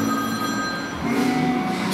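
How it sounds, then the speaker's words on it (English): A telephone ringing in the background of a New York art exhibition space, steady electronic ringing tones held over a constant room hum, moderately loud and continuous, with no voices. "a phone ringing somewhere in the background"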